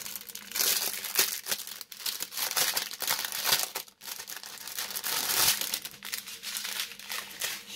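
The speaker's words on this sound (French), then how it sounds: "Je suis désolée si ça fait beaucoup de bruit, mais bon, c'est une ouverture diamond painting, donc forcément ça va faire un petit peu de bruit." Loud, continuous crinkling and crushing of plastic bags as a diamond painting kit is opened, some pieces in small zip bags, with steady rustling close up and no talk.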